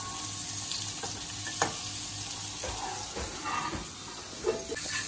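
Fish fries in a flat pan on the stove with a loud, steady sizzle and hiss that never stops. Faint clinks of stirring and cooking sound through it now and then, and no one talks.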